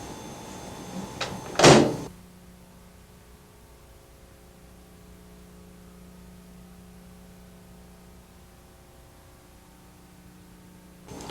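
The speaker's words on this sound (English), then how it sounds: "Next, I close the door." A microwave oven door shuts with a single short, sharp clunk near the start, followed by a quiet steady hum of room tone.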